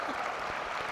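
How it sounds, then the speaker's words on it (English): Applause from a tournament audience at a robotics competition, welcoming a judge: a dense, even wash of clapping with no breaks, fairly soft and steady. "That's a huge round of applause and welcome to Professor Saha."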